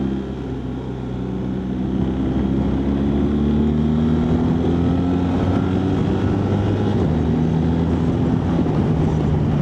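A BMW R1300GS motorcycle engine drones steadily with a rising pitch as it accelerates, heard from the rider's position with wind noise and no talking.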